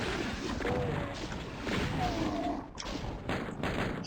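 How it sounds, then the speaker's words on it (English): Repeated loud shotgun blasts and crashing impacts in the video game DOOM (1993), a dense, harsh barrage of booms following one another closely, with a brief lull near the end before the firing resumes. "I'll just shotgun these guys."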